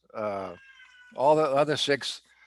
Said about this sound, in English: that's my cat. I don't know what she wants.